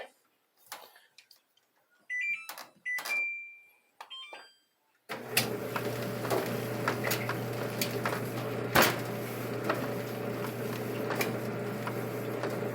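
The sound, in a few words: clothes dryer tumbling a tank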